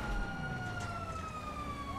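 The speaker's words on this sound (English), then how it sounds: "There's so many sirens" Police car sirens wail steadily in GTA 5, several overlapping and sliding in pitch over a low rumble of traffic, moderately loud and continuous with no talking.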